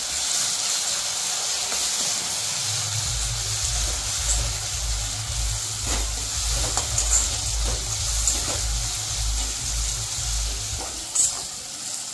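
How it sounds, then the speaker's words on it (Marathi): Green chillies frying in hot oil in a pan, giving a steady broad sizzle with occasional sharp crackles and spits over a low hum. "त्यात आता घालून घ्यायची हिरवी मिरची, ती छान तळून घ्यायची"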